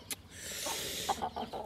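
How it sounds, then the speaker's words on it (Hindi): Aseel rooster clucking softly nearby, a few short low clucks in quick succession over a faint steady background hiss. "हमारा ये वाला असील मुर्गा ना जब से आया है एक जगह पर बैठ जाता है"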